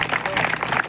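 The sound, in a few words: crowd clapping at a protest rally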